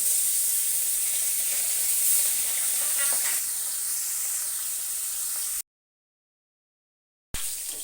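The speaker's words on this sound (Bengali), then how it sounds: "এখন আমি দিয়ে দেবো মাছগুলো আর মাছগুলো আমি বেশ সুন্দর করে ভেজে নেবো" Steady, loud sizzling of fish frying in hot oil, a continuous bright hiss that cuts out abruptly into silence before resuming briefly.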